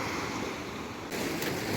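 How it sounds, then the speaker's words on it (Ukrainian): Black Sea waves wash onto the Odesa shore in a broad, continuous surf roar mixed with wind buffeting the microphone, loud and close with no talking. "А море, як завжди, радує своїми краєвидами"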